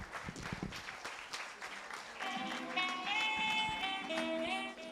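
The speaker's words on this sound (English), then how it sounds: "Please, a round of applause for him as he comes to the stage" Scattered audience applause at a TEDx event at Nile University of Nigeria, light clapping early on, then giving way to a sustained tonal musical passage.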